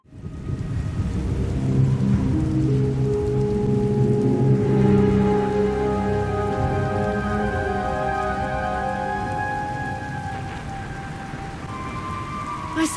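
Steady rainstorm in a Star Wars game cutscene, with a low rumble of thunder rolling beneath the constant downpour and music-like tones rising midway, continuous and loud throughout.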